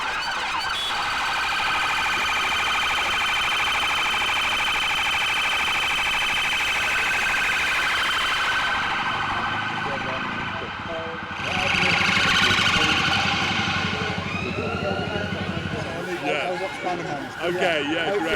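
Police sirens wail loudly and continuously on Park Lane in London during a lockdown-era gathering, with several sirens overlapping and shifting pitch close by, amid street noise and people talking.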